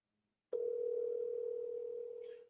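A single steady phone ringing tone while calling someone: one continuous electronic tone, quiet and near, holding for about two seconds before cutting off, with a faint chirp near the end.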